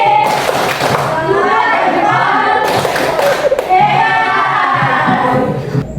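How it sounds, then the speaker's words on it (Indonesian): Children in a classroom do a rhythmic thumb-clap chant, voices chanting loudly and close together while hand claps and thumps tap along in a steady beat throughout. "Ayo kita beri tepuk jempol."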